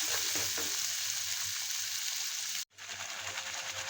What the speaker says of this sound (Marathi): आता ही चांगली परतून घ्यायची 2 मिनटं.